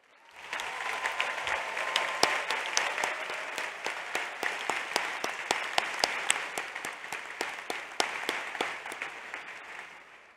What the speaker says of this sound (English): let's give everyone in here another big round of applause